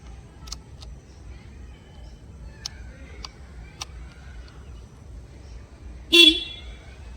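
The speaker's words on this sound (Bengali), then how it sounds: "তার নিচে হর্ন সুইচ দেওয়া আছে।" A single short, loud honk from the horn of a 2025 Yamaha FZ-V3 motorcycle (BS7, E-20) sounds near the end, after a quiet stretch with a few faint clicks.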